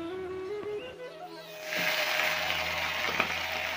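Leafy greens hit a hot pan partway through, bursting into a loud, steady sizzle after a quieter opening with faint tonal sounds nearby.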